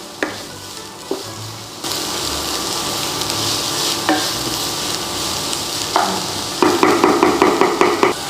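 Red and white onions frying in a pan, a steady close sizzle with a spoon scraping and stirring, a few sharp taps early on and rapid rhythmic clinks toward the end.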